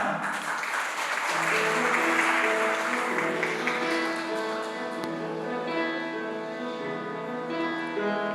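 Wedding guests in a wedding hall clap steadily as the ceremony opens, a dense patter of applause with music tones sustained beneath it throughout.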